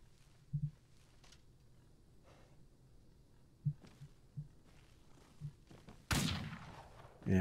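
Shotgun fire in the Outlaws video game: a few sparse, muffled shots spaced seconds apart over a quiet backdrop, then a sudden loud, close blast that roars on to the end.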